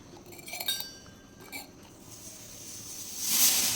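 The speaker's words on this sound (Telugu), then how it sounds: "ఫస్ట్ మేము ఉప్పు వేస్తున్నాం." Salt added with a spoon into a glass: a few light clinks and taps of the spoon against glass near the start, then a soft rising rustle of grains toward the end.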